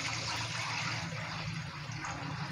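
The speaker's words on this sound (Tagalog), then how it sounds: "So, lalagyan natin siya ng tubig," Water is poured into a pan of sautéed vegetables for pancit bihon guisado, giving a faint, steady hiss and gentle wash of liquid close by.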